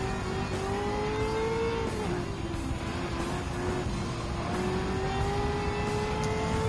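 A supercar engine roars steadily in Gran Turismo 7, holding a high, rising pitch at full throttle through a hillside racing sector, loud and continuous with no talk.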